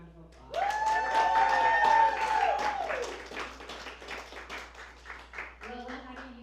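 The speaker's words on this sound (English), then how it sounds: "Let's give Lola a round of applause." Conference audience applauds Lola, the clapping swelling under a loud cheer or whoop at first, then thinning into scattered claps that fade toward the end.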